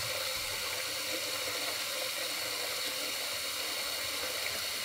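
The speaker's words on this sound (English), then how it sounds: "Now I pour some water in." A steady, continuous rush of running water poured into a pot, holding even and fairly loud throughout.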